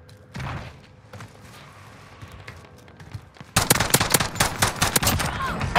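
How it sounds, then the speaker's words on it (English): Gunfire in Call of Duty Warzone (Cold War) starts after a few quiet seconds of game ambience and faint thuds. It bursts into loud, rapid automatic fire with overlapping shots that continues to the end. "I'm taking fire."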